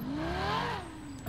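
A video game car engine revs up with a rising whine, then eases off, heard briefly at low volume.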